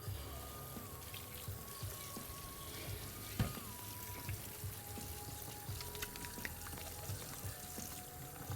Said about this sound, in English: then I'll wash my hands one last time